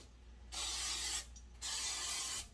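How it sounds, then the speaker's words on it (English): Cooking spray hisses onto a muffin pan in two steady bursts, each about a second long, close and fairly quiet with a short pause between them. "Of course, you spray your pan, all right?"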